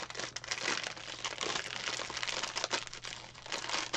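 Packaging crinkles and rustles continuously up close while a DAC is unboxed, an irregular stream of crackling plastic and paper handling.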